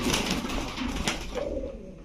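Racer pigeons coo steadily up close, a soft, continuous throaty murmuring that carries through the whole stretch with no talking.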